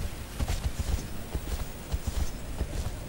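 Hooves of a ridden horse in a horse-riding video game beat out a quick, uneven clip-clop, close and moderately loud against a soft background hiss.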